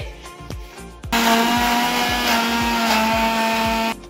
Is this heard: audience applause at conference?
no